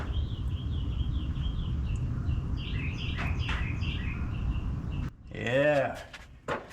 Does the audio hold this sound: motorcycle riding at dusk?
no